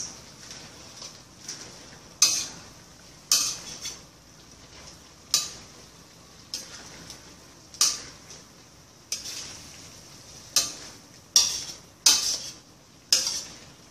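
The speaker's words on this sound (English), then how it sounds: "Just mix all this." Tuna flakes, mushrooms and leafy green vegetables are stirred in a pan, with a utensil scraping and clinking against the metal in a steady series of about a dozen strokes over a soft background hiss.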